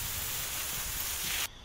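Water spraying from a hose in a demolition-and-build game, a steady close hiss that stops abruptly near the end.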